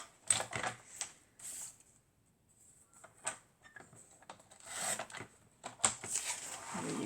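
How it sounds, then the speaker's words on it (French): Cutting paper with a guillotine paper cutter (massicot) while making a small Alice in Wonderland scrapbook mini album: a series of close, crisp clicks and snips with short pauses between them, heard alone. "Et je vais couper au massicot."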